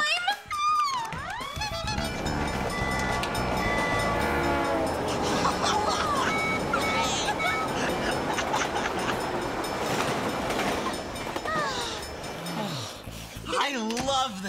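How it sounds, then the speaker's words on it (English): A passing train rumbles and clatters across the whole stretch, with horn or whistle blasts on top and voices speaking at the start and end. "I love the sound of trains. So do I. The whistles make me think of faraway places and adventures."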